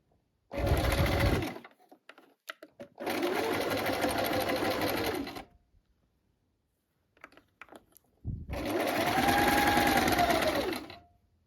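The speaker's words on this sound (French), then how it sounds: "Vous cousez à 1 cm du bord." A sewing machine stitches fabric about 1 cm from the edge in three loud, steady runs of several seconds each, with short silences and faint handling clicks between runs.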